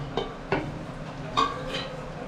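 A utensil stirs onions with sugar, cashews and raisins in a pan, giving a few sharp scraping clinks against the metal over a low sizzle.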